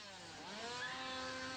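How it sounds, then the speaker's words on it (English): A chainsaw engine roars in a steady, loud, continuous drone at a haunted-house horror attraction at Universal Studios Horror Nights, with no voices. "The easiest scare, and probably the most effective scare even today, is the chainsaw."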